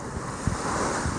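Strong wind blowing at Malibu Beach beside a resort in Onna, Okinawa, a continuous loud roar of gusts mixed with surf washing in close by.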